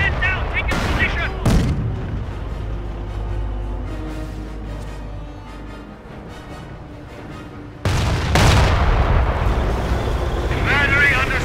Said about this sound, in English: Battery under small arms fire.